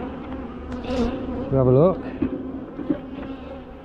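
Honey bees buzz loudly around an open hive stacked three supers high. The hum is dense and close, rising and falling, and a person speaks briefly over it.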